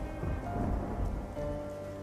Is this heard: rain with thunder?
yes